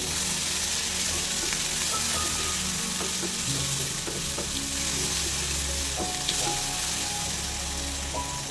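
Vermicelli (shavige) frying in a pan, a steady close sizzle and crackle running throughout, with occasional light scrapes and taps of a spoon against the pan.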